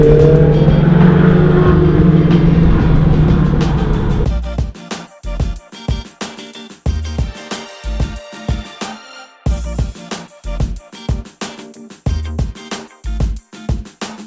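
A Lamborghini Huracan Performante on a race track, heard as loud, close engine bursts that rise and cut off in a rapid rhythm of revs and gear changes after a steadier opening stretch.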